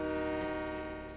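A train horn in the game Train Mechanic Simulator 2017 sounds as one sustained, loud, steady chord-like blast that continues throughout.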